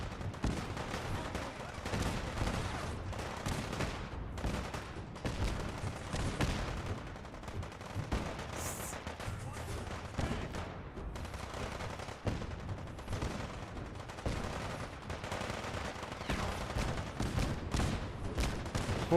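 Gunfire and explosions in a Fallout 4 battle at Quincy, with dense bursts of shots and booms layered over one another in a continuous, busy barrage at moderate level, with faint voices.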